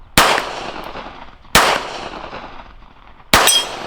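Three loud gunshots from one of the cheapest guns sold online, each followed by a ringing clang from a steel target, spaced about a second and a half apart, with no voices.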